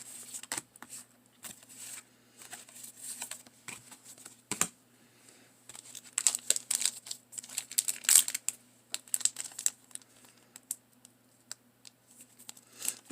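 Magic: The Gathering Kaldheim set booster pack wrappers being opened, close irregular crinkling and tearing of foil with small clicks and rustles.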